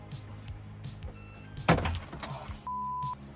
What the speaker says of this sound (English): Press 2 seconds to open the door.